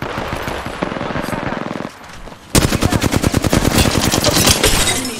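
Rapid automatic gunfire in an Apex Legends match, loud and close, with dense streams of shots that break off briefly and then resume in a sustained burst.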